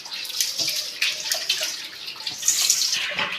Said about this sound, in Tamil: இப்போ கையை கழுவிட்டு வந்தாச்சு